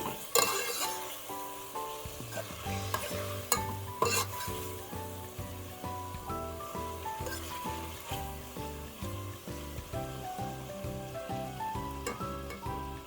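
Chicken chopsuey sizzling in a pan after black pepper goes in, stirred with steady rhythmic scraping and tapping of a utensil over a constant close frying hiss.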